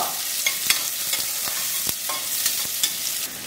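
Onion frying in a pan for a school lunchbox dish, a steady close sizzle broken by brief scraping stirs, with no voices.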